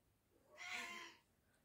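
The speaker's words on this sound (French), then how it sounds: "Mon petit chat que vous entendez." A house cat gives a single drawn-out meow, close and fairly faint, rising and fading over about half a second in a quiet room with no speech.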